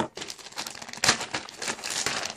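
Plastic packaging of wrestling gear crinkles and tears close up as it is opened, a burst of rustling and crumpling with one sharper rip midway.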